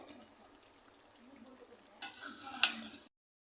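Ground spices such as coriander and cumin being stirred into a homemade mango pickle. Soft, steady scraping gives way to a short burst of louder clatter, with no talking.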